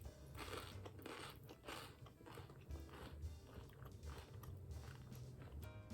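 Crunchy bites and chewing on an apple pie roll sound close and quiet, with repeated crisp crunches in an irregular rhythm and soft mouth sounds between them.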